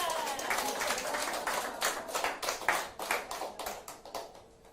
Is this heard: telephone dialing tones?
no